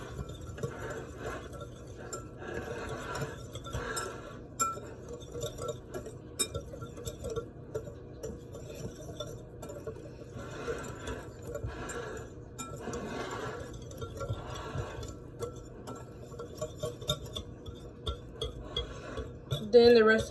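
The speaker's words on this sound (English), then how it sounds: "Grab my whisk. I'm gonna mix this together a little bit." Whisk clinking against a mixing bowl while blending keto blueberry sour cream muffin batter with Truvia, a quiet, steady run of soft metallic taps and scrapes with occasional louder knocks.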